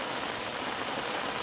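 Heavy rain pours steadily outdoors beside a river, a dense, even hiss of drops striking surfaces that stays loud and unbroken throughout, with no voices.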